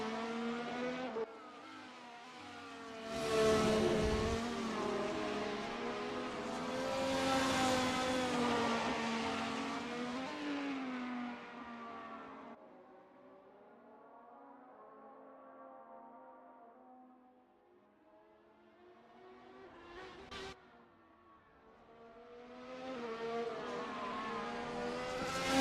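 A race car laps the Indianapolis GP road course with a loud, sustained engine note that rises and falls through gear changes. It drops to a quieter, distant drone midway, then surges close and loud again.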